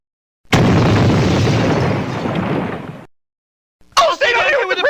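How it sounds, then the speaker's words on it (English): A loud, close explosion in The Mask: The Origin, a Windows 3.x game, gives a dense roaring burst that holds for about two and a half seconds and then stops dead. A short further burst of game sound follows. "Didn't you hear that explosion?"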